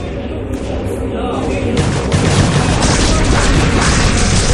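Dense, continuous booming and crashing of massed cannons firing in a video game battle, with heavy thuds layered into a loud, busy din that thickens after the first couple of seconds.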